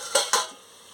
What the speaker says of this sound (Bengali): দেখুন, এবারে আমি ঢাকাটা খুলে নিচ্ছি